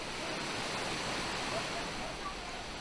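Waterfall pouring down a mountain ridge in a rare water-rich area of Israel near the upper Jordan River, a steady, dense broadband rush of falling water that holds constant throughout without pause.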